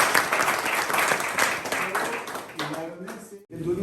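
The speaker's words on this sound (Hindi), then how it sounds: "जोरदार ताली बजाई।" Audience applause at a disability awareness programme in Bhojpur district, Bihar: a dense, steady wash of many hands clapping, loud and continuous, thinning out and dipping briefly just before the end.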